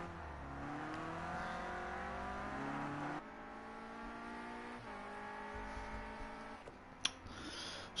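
Renault Clio Cup race cars in Project Cars 2 on PS4/PS5, engines droning and shifting gears under constant load, with the pitch rising in steps, another car's note layered underneath, and a brief knock near the end.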